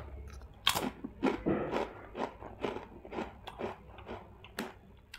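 Smoked-cheese-flavored Tiger potato chips crunch between the teeth up close, a run of about a dozen crisp bites and chews in quick irregular succession, loud and alone with no talking.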